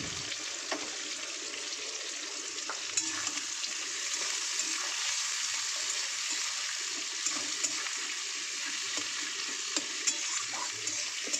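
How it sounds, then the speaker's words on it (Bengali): Sliced onions frying in a generous amount of hot oil in a pot with mutton, a dense continuous hiss with small pops and crackles, close and even throughout. "পেঁয়াজগুলো ভালো করে লাল লাল করে আমি পেঁয়াজগুলোকে ভাজতে দেবো।"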